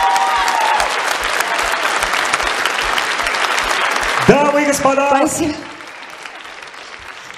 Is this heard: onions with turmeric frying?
no